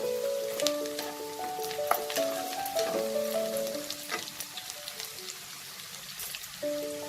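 Green chilies slit down the middle dropped into a frying pan with ginger already fried crisp, crackling and sizzling steadily up close, with a few scraping stirs and no talking.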